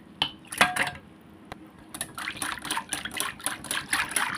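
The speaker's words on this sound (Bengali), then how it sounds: "কাঁটা চামচ নিয়েছি, কাঁটা দিয়ে সেটা দিয়ে আমি ঘুরিয়ে নিচ্ছি" Metal fork clinking and scraping against a bowl while stirring sugar, milk and oil for a chocolate cake batter, a run of quick, close, light taps and swishes, soft and rhythmic.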